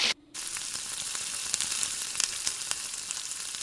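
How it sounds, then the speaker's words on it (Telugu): Leafy green pakodas frying in oil over a medium flame, a dense, steady sizzle with small crackling pops, close and unbroken, no voices. "మళ్ళీ ఒక 5 నిమిషాలు ఇలాగే మీడియం ఫ్లేమ్ మీద వేయించుకోవాలి"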